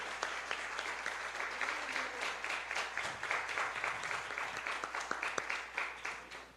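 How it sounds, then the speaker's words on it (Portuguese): A church congregation claps for its music group, with steady, fairly rhythmic applause that runs throughout with a low hum underneath. "eu queria que vocês dessem uma salva de palmas para o grupo de música dessa igreja"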